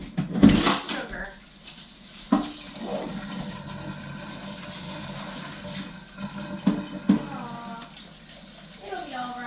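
A mixing bowl is rinsed under running water in a home kitchen, with clattering dishes and utensils, bursts of splashing and knocks over a steady trickle.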